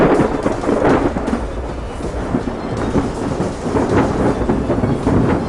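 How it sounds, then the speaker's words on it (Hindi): Storm sound effect for a 2D animation: heavy rain roars continuously while deep thunder rumbles and crackles in rolling waves, loud and close, with no voices. "परंतु तूफान लगातार भयंकर रूप लेता जा रहा होता है"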